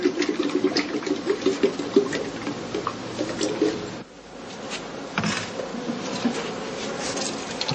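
Honey bees buzzing around heather skeps in an autumn apiary, a close busy hum with wingbeat flutters, steadier in the first half, then a short dip before the buzzing picks up again more softly.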